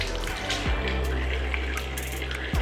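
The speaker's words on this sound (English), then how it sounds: "I'm gonna go rinse off and emulsify." Tap water runs steadily into a bathroom sink while face cleanser is rinsed off, a continuous close splashing hiss lasting throughout with no talk.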